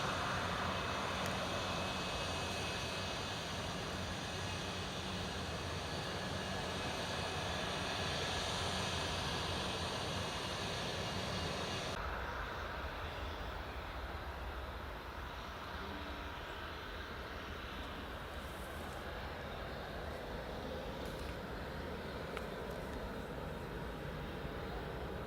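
An Embraer jet roars steadily on its take-off run from Newcastle International Airport, runway 25. The engine noise is loud and sustained, then turns duller and more distant partway through as the aircraft climbs away. No one speaks.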